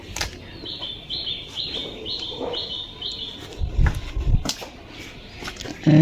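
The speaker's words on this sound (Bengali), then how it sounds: "কবুতর বাচ্চাটা নামাবো দেখা যাক কত বড় হয়েছে" Pigeons on a rooftop, with a run of short, evenly spaced chirps, a few dull thumps and flutters like wingbeats, and a louder knock at the end; no talking.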